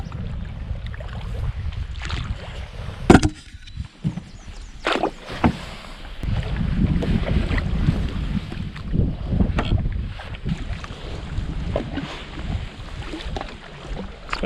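A canoe paddled along a narrow creek in the Boundary Waters wilderness, with soft splashing paddle strokes and water swishes at an irregular rhythm, plus a few knocks against the hull and light wind noise.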